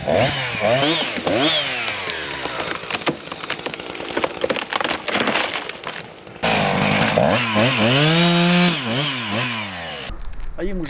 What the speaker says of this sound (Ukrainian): випиляли сухі та аварійно небезпечні дерева